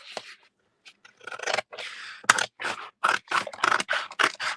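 Scissors snipping through A4 card stock, trimming off excess: a run of sharp, close crisp cuts in irregular bursts, with brief pauses between snips and a few faint rustles of the card.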